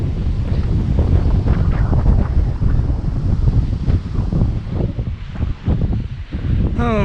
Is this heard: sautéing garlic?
no